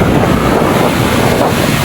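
Big sea waves crash and strong wind roars steadily around a boat at sea, a loud continuous wash of water and wind noise buffeting the microphone.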